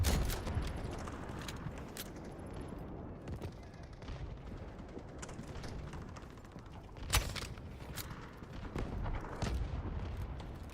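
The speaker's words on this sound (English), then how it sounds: "Artillery barrage incoming." An artillery barrage in the Delta Force video game: a long run of distant and nearer booms and crackling blasts over a constant rumbling battle din, with some sharper impacts standing out near the end.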